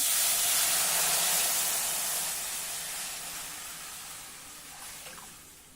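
A liquid mixture poured into hot ghee with crackling cumin tempering gives a loud, broad sizzling hiss that starts strong and steadily fades over several seconds, with no talking.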